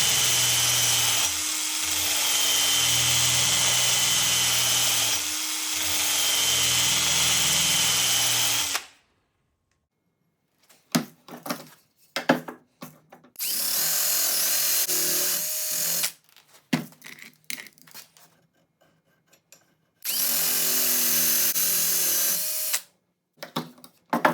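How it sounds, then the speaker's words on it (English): A Harbor Freight axe is ground on an 80 grit belt: a long harsh grinding burst, then two shorter bursts, with quiet scraping and handling sounds in the pauses. "Now grinding with the 80 grit, you'll see how much faster it goes"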